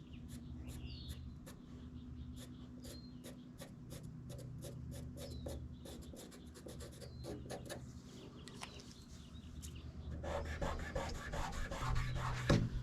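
Light sanding on the repaired, snapped-off tail of a Mctavish surfboard: a run of brief dry rasping strokes at a steady, fairly quick pace, close and quiet, growing denser and a little louder toward the end.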